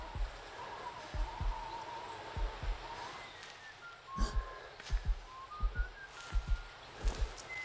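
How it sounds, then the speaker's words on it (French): In a Sherlock Holmes video game, a killer's whistling rises and falls as a thin melodic tune over soft rustling and a run of thudding footsteps, moderately close. "Ça, c'est un sifflement de tueur."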